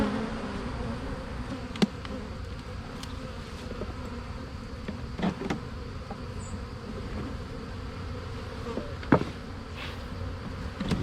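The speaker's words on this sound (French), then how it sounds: "Là, je transfère des abeilles en fait." Honey bees buzz in a steady, moderately quiet drone as a hive frame is transferred during honey harvest work, with a few sharp knocks and handling clicks scattered through.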